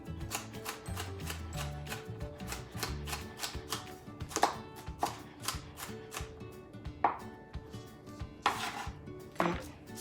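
A knife chops green peppers on a cutting board in quick, steady strokes, a run of close, sharp taps with a few louder knocks toward the end, and no talking.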